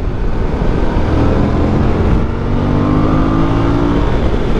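Suzuki V-Strom 1050 DE adventure motorcycle engine on a test ride, a loud continuous rumble mixed with wind rush and a faint rising whine as the rider accelerates.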